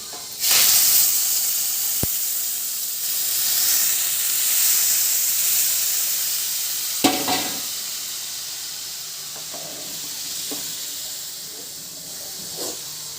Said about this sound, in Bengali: ডাল আলু ভাজা হয়ে গেছে এবার দিয়ে দেবো জল